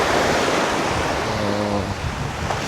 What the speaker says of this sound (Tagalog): Mao na ni lahang dagat diri sa silong.